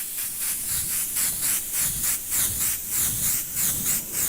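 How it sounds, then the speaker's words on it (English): Airbrush spraying paint in short repeated bursts, a steady broad hiss pulsing roughly every half second as vertical streaks are laid down, close and fairly loud with no talking. "If the airbrush spits as well, I'm not particularly worried about that."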